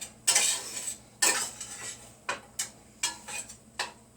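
Ground meat sautés in a pan for bacon cheeseburger macaroni: a spatula scrapes and clinks against the pan in short, repeated strokes over a faint, low sizzle, close by with no talking.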